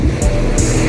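A car passing on a big road in Baojhong, Yunlin, Taiwan, a steady loud traffic roar with wind-like rumble throughout, no voices.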